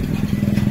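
A Yamaha NMAX scooter engine runs just after being switched on, a close, loud low chugging idle with a quick even pulse.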